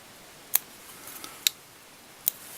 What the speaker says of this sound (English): I pull up my cut ends and I cut down with my scissors